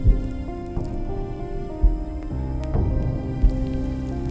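Rain falling in a wartime mountain setting, a steady wet patter with occasional louder splashes and dull thumps, continuous and close under a low rumbling background.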